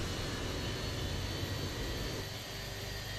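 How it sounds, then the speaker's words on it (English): Steady, loud jet engine roar from an Airbus A320 airliner in a flight simulator, a continuous broadband rumble that holds evenly and dips slightly near the end, with no talk. "Get a whole load of jet noise."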